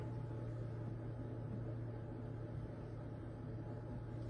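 A Thermomix mixing grated coconut whirs in a steady, even motor hum with a faint grainy churn, constant and alone for a few seconds.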